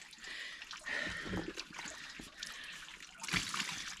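Splashing water as a released carp slips back into the lake on a fishing trip, soft trickling and sloshing close by with a brief louder splash near the end.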